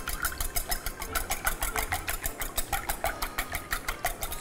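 Two eggs and milk are beaten together in a bowl, a quick regular clatter of the whisk or fork against the bowl, close and steady, with no voices.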